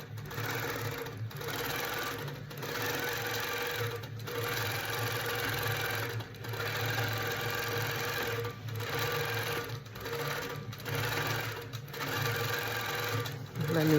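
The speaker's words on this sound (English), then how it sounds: "It moves to the starting point, brings up my bobbin thread, comes back in tacks, and then it'll start working on this row" A Handi Quilter Pro Stitcher longarm quilting machine stitches a row in a steady rapid whirr, broken by brief pauses every second or two as it tacks and moves, with quiet talk underneath.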